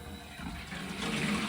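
Water rushes into a vented domestic hot water cylinder as the fill valves are opened after a replacement, a steady broadband hiss that swells louder toward the end.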